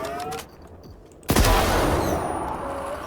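A loud burst of gunfire in the video game S.T.A.L.K.E.R. erupts after a quieter moment, then rings out in a sustained crackling wash that slowly fades.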